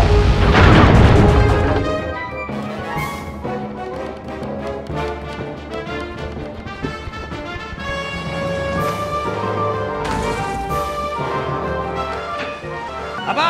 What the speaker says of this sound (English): Load the cannons and prepare to come about.